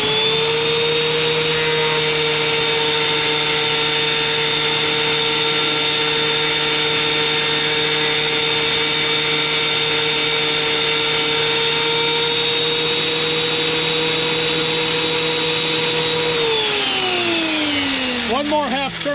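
DeWalt DW734 thickness planer running steadily with a loud, constant high-pitched motor whine and cutterhead drone, holding even for most of the stretch before winding down at the end.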